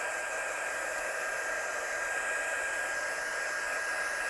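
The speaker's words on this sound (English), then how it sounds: "So I'm just going to dry this off with my gun," Heat gun blowing steadily to dry a damp card-making project, a continuous close, even airy roar with a constant hiss that holds unchanged throughout.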